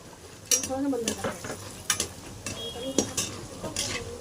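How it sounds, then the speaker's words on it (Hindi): Fox nuts (makhana) frying on a low flame, with a steady soft sizzle under several close scrapes and stirs of a utensil in the pan. "अब और भी बचे हुए स्टेप बाय स्टेप हम सारे फ्राई करेंगे धीमी आंच पर ही।"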